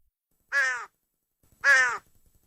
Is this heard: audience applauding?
no